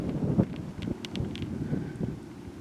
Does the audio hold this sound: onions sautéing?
no